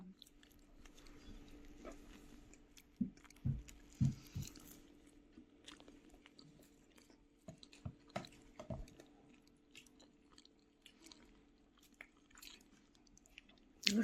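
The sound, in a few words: chewing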